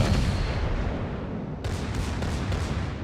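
Secondary battery guns on the battleship Pommern fire in World of Warships, four quick sharp reports in an even rhythm over a steady low naval rumble.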